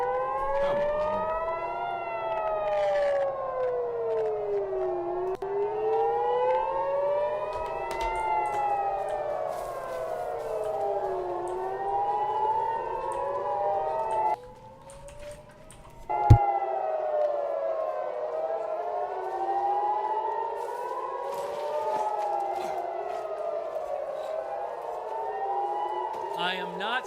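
A wailing siren in the Far Cry 6 video game rises and falls in repeated long sweeps, loud and continuous, cutting out briefly midway before resuming.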